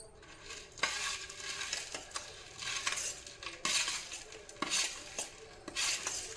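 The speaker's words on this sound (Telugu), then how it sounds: "ప్యాకెట్ మొత్తం యాడ్ చేసేసి ఉండలు లేకుండా కలుపుకుందాం." Spoon stirring junnu powder into melted jaggery in a pan, with irregular scraping strokes and metallic clinks against the vessel, close and fairly quiet with no talking.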